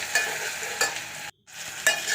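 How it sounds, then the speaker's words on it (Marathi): Coriander, green chili, garlic paste and tomato fry in a pan with a close, steady sizzle and stirring scrapes. The hiss cuts out briefly midway, then resumes. "आता हे आपण चांगल्या प्रकारे फ्राय करूया।"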